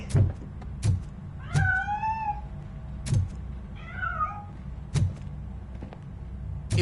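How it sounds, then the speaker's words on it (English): A cat meows twice, drawn-out rising-and-falling cries spaced a few seconds apart, among sharp intermittent thumps and clicks over a low steady rumble. "That cat must be hiding inside."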